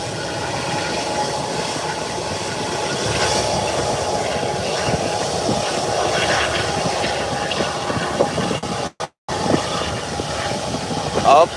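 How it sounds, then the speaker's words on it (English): Beechcraft 1900 aircraft taking off: a sustained, even rumbling roar of the engines with a broad rushing noise, steady and loud, briefly cut out by a dropout near the end. "there you have the Beechcraft 1900 up and away. Beautiful takeoff."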